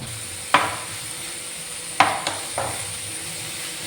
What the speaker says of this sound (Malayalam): ഇനി ഈ മസാലയ്ക്ക് ആവശ്യമായ ഉപ്പ് ചേർത്ത് കൊടുത്തിട്ട് സവോള ഒന്ന് വഴറ്റിയെടുക്കണം